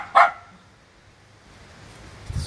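A single loud, sharp bark from a dog near a cemetery, followed by quiet ambient noise.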